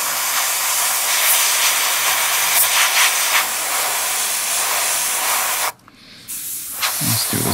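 An airbrush sprays Panzer Gray paint onto a model Sturmgeschütz III Ausf B tank, a loud continuous hiss close by that cuts off abruptly near the end before a short burst resumes.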